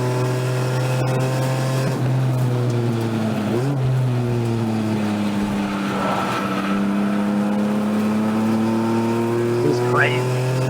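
Race cars in a ChumpCar World Series endurance race at Watkins Glen howl past in close formation. Engine drones rise and fall steadily throughout, with commentators talking over the continuous roar.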